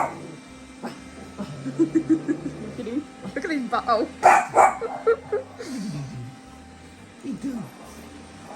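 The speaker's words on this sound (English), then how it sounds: "Everyone's barking." Dogs barking indoors at home, a few short yips and barks scattered among people chatting and laughing, with the barks near but fairly soft under the talk.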